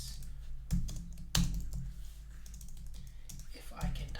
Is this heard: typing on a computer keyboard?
yes